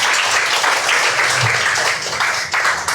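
An audience at a discussion session applauds a speaker named Pak Wayan, a dense burst of clapping that stays loud and even for a few seconds with a brief dip near the end.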